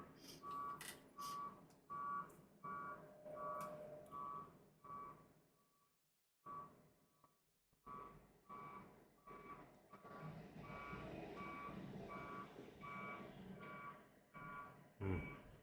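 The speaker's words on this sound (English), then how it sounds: "Beep, beep. That's usually the garbage trucks picking up" Repeated high-pitched reversing beeps from a garbage truck, steady rhythm with a short pause midway, over low engine rumble at moderate distance.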